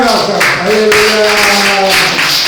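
A church congregation claps together in thanks during a service, a loud burst of applause in a large room, with a voice heard over it.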